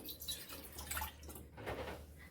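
Water trickles and splashes softly as a cupful is poured into a pot for herbal kashaya tea, a faint, close liquid sound without talk.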